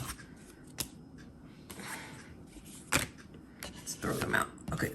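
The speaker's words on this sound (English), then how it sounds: "Cards are going everywhere." Tarot cards shuffled and tossed during a reading, with scattered papery riffles and soft slaps, a few sharper flicks, close and fairly quiet over a low room hum.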